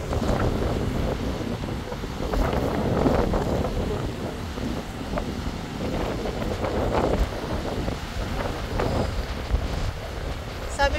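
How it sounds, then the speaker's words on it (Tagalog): Strong wind buffets the microphone on a coast in northwest Tasmania, a steady, loud, rumbling roar with gusty swells and no clear voices. "Pero sobrang hangin naman talaga. Sobrang mahangin."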